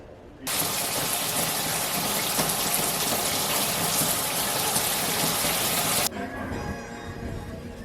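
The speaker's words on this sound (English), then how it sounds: "I took a shower, nice hot shower" A hot shower runs in a steady, loud hiss of spraying water for about six seconds before cutting off abruptly, leaving faint dripping and room tone.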